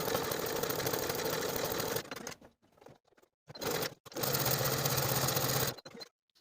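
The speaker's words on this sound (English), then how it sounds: "we're going to sew one long raw edge and one short edge with a 1/4 inch seam allowance for all 4 ties" A sewing machine stitches fabric tie pieces with a quarter-inch seam, running in a steady close whir for about two seconds, stopping, giving a short burst, then running again in a longer stretch before halting.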